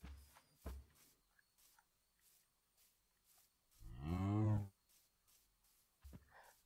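A cow in the Minecraft video game gives one loud, close moo lasting under a second, with soft footstep-like clicks and quiet game ambience before and after.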